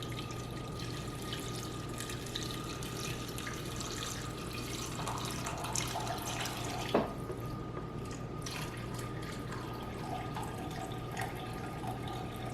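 Chicken bone broth trickles through a cheesecloth-lined sieve in a steady, faint pour and drip, with a low constant hum underneath and one brief sharp clink partway through.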